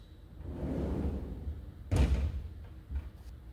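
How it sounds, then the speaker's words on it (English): The doors of a CNC machine slide shut before a Renishaw tool probe cycle, giving a rolling whoosh that ends in a single firm thud, with a lighter knock just after. "I'm going to close my doors."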